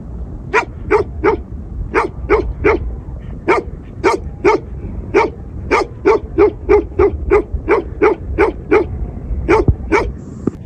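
A dog travelling with Bakarwal herders in Kashmir's Neelum valley barks repeatedly in a steady, rapid series of about twenty loud, close barks with short pauses between them.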